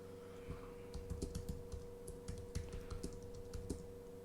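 Quiet, irregular clicks of typing on a computer keyboard, a short run of keystrokes close by over a faint steady hum.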